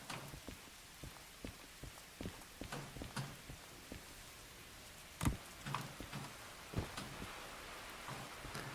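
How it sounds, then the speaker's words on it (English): Steady rain patters on surfaces in the Derail Valley train simulation game, a dense wet hiss with scattered heavier drips and thumps, moderately loud and continuous with no talking. "I do love the ambience of the rain though."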